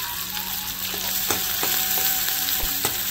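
Chopped ginger sizzles steadily in hot oil in a home kitchen pan, a continuous close frying hiss with a few sharp stirring knocks scattered through, no voices.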